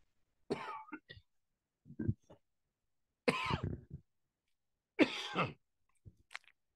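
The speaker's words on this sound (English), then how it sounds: "Sorry for the coughing" Several sharp coughs in scattered bursts, close to the listener, separated by short silences.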